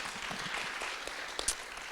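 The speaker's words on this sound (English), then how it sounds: "Please give a round of applause for Casey." Audience applause at a keynote event welcoming board member Casey Taylor to the stage, a soft, steady wash of many hands clapping at a moderate distance, with a couple of sharper claps near the end.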